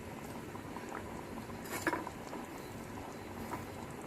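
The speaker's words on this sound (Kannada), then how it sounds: "ಈಗ ಕುದೀತಾ ಇದೆ ನೋಡಿ." Potato saagu curry bubbles in a pot, a soft steady simmering patter with faint pops and a brief clink partway through, quiet and close with no talking.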